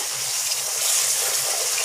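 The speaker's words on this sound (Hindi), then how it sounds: "अभी हम इसमें डालेंगे पानी, धीरे धीरे गैस कम कर देंगे और धीरे धीरे डालेंगे" Water poured slowly into atta halwa (wheat-flour halwa, kada prasad) in a pan on a lowered flame, giving a steady close hiss and gushing sizzle throughout without pause.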